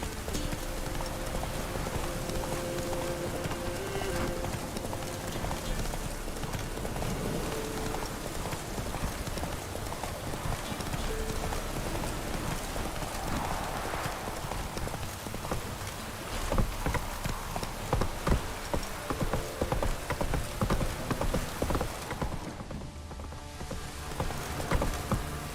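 Steady rain in the Witcher 3 video game falls as a constant hiss with a horse's clip-clopping hooves on top, the hoofbeats growing more distinct near the end; no talk.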